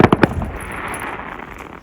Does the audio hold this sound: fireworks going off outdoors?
yes